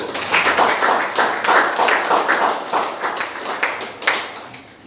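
A church congregation claps together in a brisk burst of applause that rises and gradually thins out.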